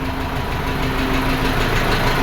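A tractor engine runs at a steady, loud, close drone with a rough knocking throb while powering a cattle feed grinder on a farm.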